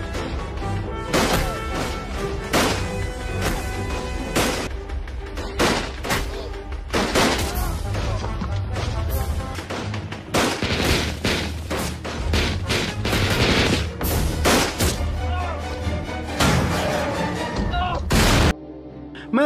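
Gunfire crackles through a battle scene in a film about Indonesian independence fighters, with Dutch troops attacked from all sides: dense volleys, sharp crashes and bursts of shots in rapid succession over a loud, constant background for nearly the whole stretch.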